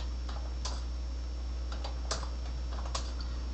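Someone types values on a computer keyboard, making a few light, scattered key clicks over a steady electrical hum.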